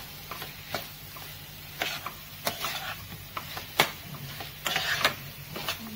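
Mushrooms with black pepper and salt are stirred in a hot pan, soft sizzling under irregular scraping and clinking strokes of a spoon, close and fairly quiet.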